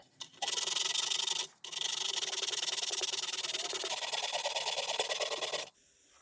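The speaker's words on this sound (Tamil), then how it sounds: "அந்த ஓட்டை இருக்க பகுதியில் மட்டும் கறி போகிற அளவுக்கு உப்பு தலை வச்சு தேய்ச்சிருங்க" Salt is rubbed hard against the holed area of a leaking metal vessel in a close, loud, continuous scrubbing run broken by a brief pause, with no talk.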